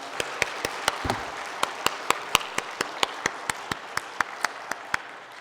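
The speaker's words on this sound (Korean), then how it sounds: "우리 감사의 박수로 한번 격려하겠습니다." A church congregation claps in thanks for two choirs after a year of worship singing, a sparse, steady run of about twenty distinct hand claps in a slow even rhythm, moderately near, with no talk over it.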